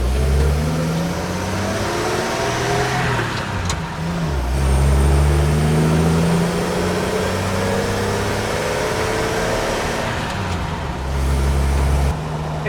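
A heavy truck engine climbs through its gears, the pitch rising and dropping several times beneath a constant roar of road and wind noise.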